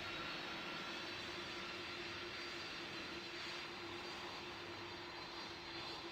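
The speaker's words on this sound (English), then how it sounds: "there seems to be a Boeing Dreamlifter on approach." Boeing Dreamlifter jet on approach in Pilot Training Flight Simulator video game: a steady, distant-sounding jet engine roar with a faint hum, constant and unchanging throughout, with no talk.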